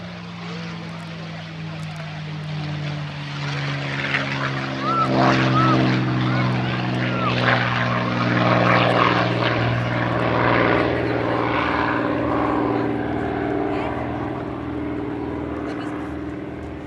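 A North American P-51D Mustang propeller warbird roars past at an air show. The throbbing engine drone swells to a loud peak midway, then fades gradually as the fighter moves away.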